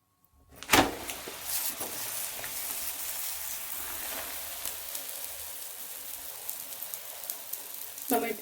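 Ragi dough sizzles steadily in ghee on a hot tawa, a continuous frying hiss with faint crackles throughout, rising briefly at the start and end.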